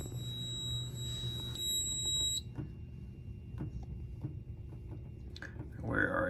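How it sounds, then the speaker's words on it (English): A smoke detector mounted in an HVAC duct sounds a steady, piercing electronic alarm tone during a home fire alarm system test, then cuts off after about two seconds, leaving faint clicks and a person talking quietly nearby. "Smoke detector, HVAC duct."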